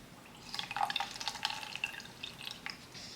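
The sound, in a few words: water squeezed out of a wet beauty blender makeup sponge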